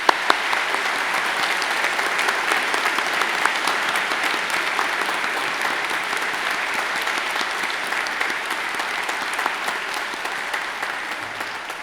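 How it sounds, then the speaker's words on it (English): Sustained applause from an audience at a Monash University graduation ceremony in Melbourne, Australia, honouring newly conferred graduates: dense, steady clapping that fills the hall for about twelve seconds without talk. "I now ask the members of the audience to applaud your accomplishments."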